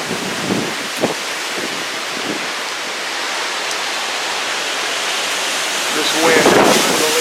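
Hurricane Irma's wind roars loud and continuous in Florida, battering the microphone with broad rushing noise that swells near the end, and indistinct voices come through faintly under the gusts.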